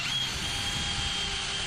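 A power drill bores holes through wood for round table legs, a steady whining drone held throughout at close range.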